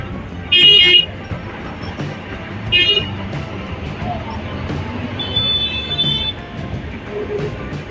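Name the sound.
traffic noise with car horns near a bridge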